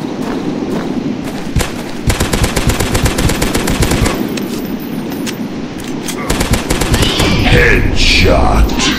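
Rapid bursts of automatic gunfire from the Dinosaurs Hunter video game run almost continuously and loud, with dense repeated shots, a short pause and then more firing, ending with roars and other game effects.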